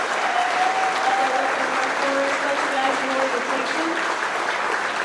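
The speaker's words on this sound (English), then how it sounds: "Let's give these guys a round of applause." Steady, even applause fills the room at a Melton Truck Lines monthly company celebration as the crowd honors its truck drivers, with faint voices mixed into the clapping throughout.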